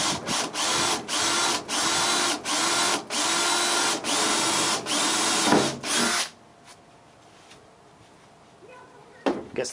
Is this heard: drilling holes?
yes